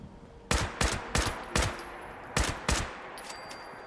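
Enemy gunfire from Scorched in a video game: six sharp shots in two clusters, three then one, then two, fairly loud over a low ambient bed with no talking.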